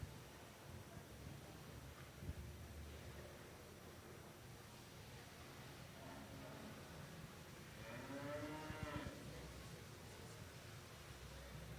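Cattle at a junior prospect calf show livestock ring give a drawn-out moo near the end, over steady arena hubbub and noise.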